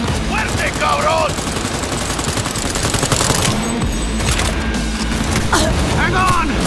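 Rapid automatic gunfire and bursts in the video game Cyberpunk 2077, continuous and loud, with shouting voices breaking through during a firefight.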